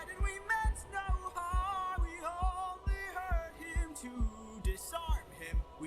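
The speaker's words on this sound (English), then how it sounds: "It's just the heartbeat you hear." A steady heartbeat thumps in an animated short, low regular double beats pulsing under a bright, shifting musical score.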